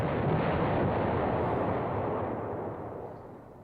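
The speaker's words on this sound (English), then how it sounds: "we're dropping a lot of artillery now" Artillery fire in the wargame Command Ops 2 makes a dense, rumbling roar of distant shelling that holds steady and then slowly fades, with no voices.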